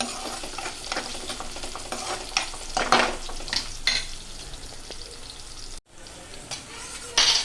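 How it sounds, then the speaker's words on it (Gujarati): Onions frying for pav bhaji bhaji and being stirred, a steady close sizzle broken by scraping spoon strokes, with a brief silent gap before the sizzle and stirring return. "કાંદાને એને થોડી વાર ચલાવતા રહેવાનું."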